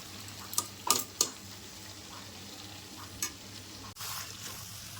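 Boiled raw jackfruit is stirred into fried potatoes and spices in a pan, with a low steady sizzle and a few sharp scrapes and clacks of the spatula against the pan.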